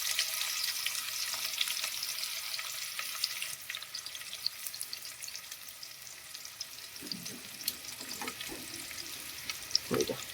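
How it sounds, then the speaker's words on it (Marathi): Onion frying in hot oil for a chicken biryani, a steady bright crackling sizzle that fades a little midway, with a few stirring knocks near the end, close and moderately loud, no speech. "मित्रांनो, तेल मस्त गरम झालंय. तर आता हा बरिस्तासाठी कांदा आपण"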